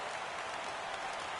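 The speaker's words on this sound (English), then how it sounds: "Crowd gets up for the 3-2." A stadium crowd in MLB The Show roars steadily at a full 3-2 count, a dense, even wash of distant cheering and applause with no breaks and no talk.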